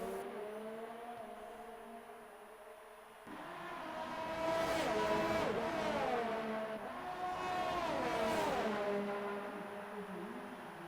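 Race car engine in a racing video game revving hard and bouncing off the rev limiter, a loud sustained buzzing drone with pitch that wavers and dips repeatedly, louder in the second half.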